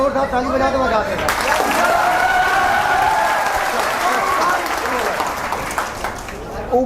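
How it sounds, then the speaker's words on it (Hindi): A classroom of students claps loudly in a sustained burst of applause lasting several seconds, with voices and cheering mixed in. "बेटा एक बार जोरदार ताली बजा दो"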